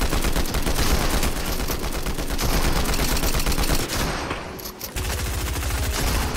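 Rapid video game gunfire crackles almost continuously, dense bursts of automatic shots that briefly drop away near the end before resuming, loud and close with no talking over it.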